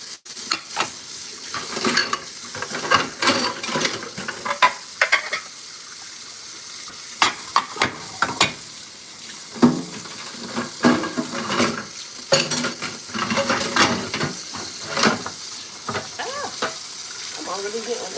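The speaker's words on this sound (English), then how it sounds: "let me separate these dishes from these cups of pots so I don't stab myself here" Dishes, cups and pots being sorted apart in a wet sink, with continuous clinks, scrapes and knocks of crockery and metal over running water and splashing, close and busy throughout.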